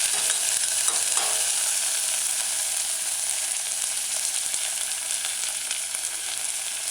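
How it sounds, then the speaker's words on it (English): Diced scallion sautés in a pan on a medium-low stove for a mushroom tomato stew, a loud, even sizzle running throughout with faint scrapes of stirring. "add the diced scallion. Stir in a couple times and allow sauteing."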